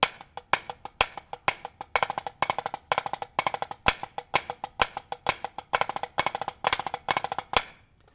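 Cheese fives on snare drum at a faster tempo, a steady stream of flams and diddles repeating in tight cycles for several seconds, crisp and up close with no voices.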